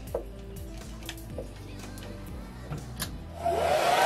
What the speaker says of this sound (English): I'm gonna go ahead and use my new blow dryer